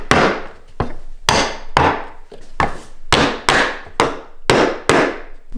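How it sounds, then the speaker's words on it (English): A hammer tapping wooden wedges into a piece of firewood for carving, giving about eleven sharp, ringing knocks at a steady, unhurried pace, close and loud, with no voices. "now we'll give them a tap"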